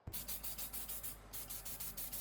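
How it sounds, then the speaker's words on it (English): An aerosol can sprays silver paint onto old shoes in short rhythmic bursts, about ten quick hissing puffs with a brief pause midway, close and fairly quiet with no talking. "I think I might spray that silver again though."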